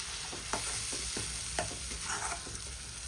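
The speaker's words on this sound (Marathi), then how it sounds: "या ठिकाणी मसाला आपल्याला 5 ते 10 मिनिटं चांगलं तेलामध्ये फ्राय करायचा आहे" Masala frying in oil for a Marathi drumstick pod bhaji sizzles with a steady close hiss, while a spoon stirs it in several distinct scraping strokes against the pan.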